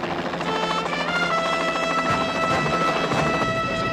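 A helicopter flies over a fire, its steady droning rotor and engine noise filling the whole stretch continuously and fairly loud, with no talk.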